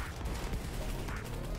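Rapid, dense bursts of spaceship gunfire from the shoot-'em-up video game Flightpath, a steady barrage at moderate loudness that runs through the whole stretch without a break.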